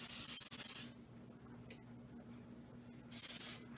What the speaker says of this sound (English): So you're going to spray both of your pans.